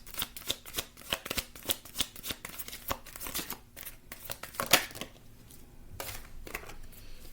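Tarot cards are shuffled by hand in quick, crisp riffling bursts, followed by a few softer slides and taps as cards are drawn from the deck, close and clear with no talking.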